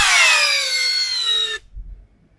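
A POLO impact drill from the PCB161A2 combo set, switched to drill mode, drives a long screw in gear 2: a loud, close, high whine that sags slightly in pitch under load, then stops abruptly after about a second and a half.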